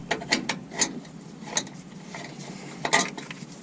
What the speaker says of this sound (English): In my case, I'm using a ratcheting wrench